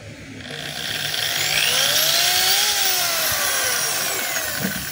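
DeWalt D21710 half-inch hammer drill running steadily in reverse, a continuous loud motor whine with a slowly shifting pitch, a faint switch click at the start and no talking.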